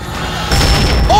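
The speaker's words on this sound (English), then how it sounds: "so I'm strategically gonna throw this nade" A grenade goes off in the battle royale shooter Warzone, a loud deep boom that swells abruptly midway and rumbles on to the end, with a brief rising whistle near the close.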